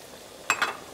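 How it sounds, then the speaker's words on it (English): Bok choy drops into a simmering pot of split peas cook-up with okra and green onions, producing a brief double splash and sizzle, then a settling hiss; no speech. "I'm gonna add my Bok Choy now."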